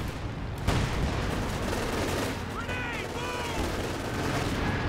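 Company of Heroes 2 battle with an anti-tank rifle grenade blast and gunfire, a sharp impact early on followed by dense continuous combat noise and small whistling effects.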